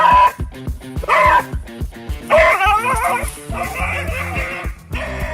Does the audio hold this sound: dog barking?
yes